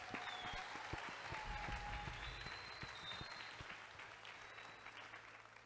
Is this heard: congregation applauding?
yes